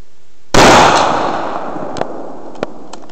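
A 30-06 rifle fires one loud, close shot outdoors, with a sharp blast that trails into a long fading echo, followed by a couple of faint distant knocks.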